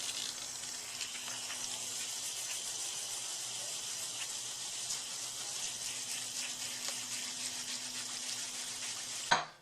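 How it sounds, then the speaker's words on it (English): A 1910 Disston D-8 handsaw blade scrubbed with a red Scotch-Brite pad and water after an acid soak; a steady, wet, hissing abrasive rasp runs continuously at close range and ends abruptly. "Some water to neutralize it,"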